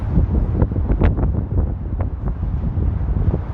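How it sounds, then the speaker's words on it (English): Cold wind gusting on the Las Vegas Strip near Treasure Island, a steady low rumbling buffet across the microphone with irregular louder gusts and no voices. "It's cold and windy"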